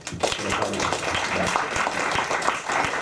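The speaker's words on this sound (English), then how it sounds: "Let's give both of them a round of applause." A crowd applauds at a chairmanship debate, a dense steady wash of clapping with some voices mixed in.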